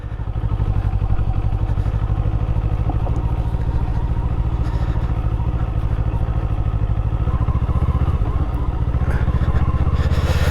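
A Kawasaki Eliminator cruiser motorcycle runs on a dirt road, its engine giving a loud, close, continuous throbbing drone with a rough rattly edge that holds fairly steady throughout.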